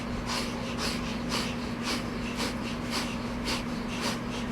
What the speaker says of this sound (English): And it's a rapid inhale and exhale through the nose